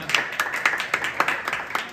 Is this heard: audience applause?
yes